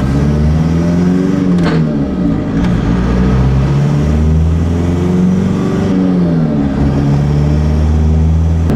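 A Toyota Tacoma pickup cruises on new wheels and tires, its engine droning steadily and loudly from inside the cab, with pitch rising and falling through shifts and a constant road rumble underneath.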